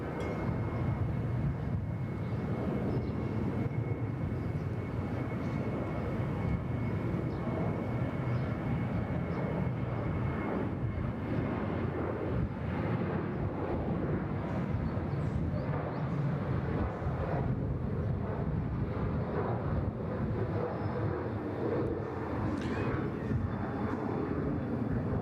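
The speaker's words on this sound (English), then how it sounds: "There's the ex-Virgin Australia 777 from Qatar Airways." A Qatar Airways Boeing 777, formerly flown by Virgin Australia, at Bangkok Suvarnabhumi Airport gives a steady, moderately loud jet engine roar over a low rumble for about twenty-five seconds, and no one speaks.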